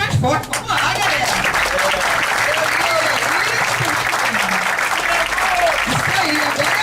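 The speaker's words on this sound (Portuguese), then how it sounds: "o presidente do Flamengo merece palmas mais fortes." Audience applauding candidates for president of the Flamengo football club at a debate, a dense, steady wash of clapping that fills the room throughout, with voices mixed in beneath it.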